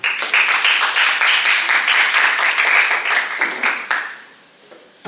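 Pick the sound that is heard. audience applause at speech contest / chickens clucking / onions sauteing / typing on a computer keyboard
audience applause at speech contest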